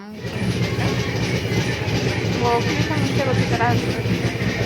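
Steady rumbling of a moving train heard from aboard, after boarding at Yeshwantpur, with rhythmic rattling of carriages, continuous and fairly loud, with faint voices murmuring in the background.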